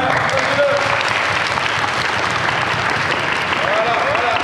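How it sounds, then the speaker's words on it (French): A group claps for a girl at a youth basketball training camp in Flémalle, a steady patter of hands filling the space at close range while a voice speaks over it. "Vous pouvez l'applaudir, hein."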